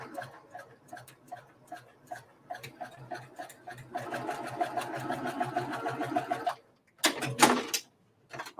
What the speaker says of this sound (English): I folded that over to one side so I'm not sewing blind